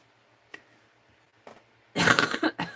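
Coughing from someone at a slow-stitch sewing session: two short, isolated coughs spaced apart, then a louder, harsher run of rough coughing bursts close to the mic at the end.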